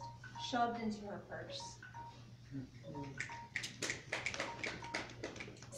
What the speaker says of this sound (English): Of course, that's my phone.